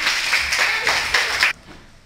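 A short burst of a few scattered hand claps at a school math competition, close and fairly loud, cutting off abruptly after about a second and a half.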